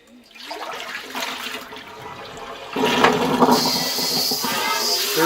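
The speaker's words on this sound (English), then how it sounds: "Dirty, nasty water goes away." Dirty water from scrubbed homegrown potatoes drains away in a gurgling, rushing flow that builds and grows louder and hissier toward the end, with no voices.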